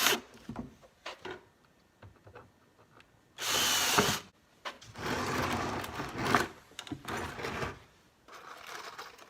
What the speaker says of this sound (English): We're going to pre-drill the holes in my cover